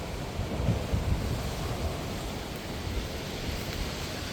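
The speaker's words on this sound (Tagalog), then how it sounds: "Lakas nga ng alon." Strong ocean waves surge and wash onto the shore at Spittal Pond nature reserve in Bermuda, a steady, loud roar of surf mixed with wind buffeting the microphone.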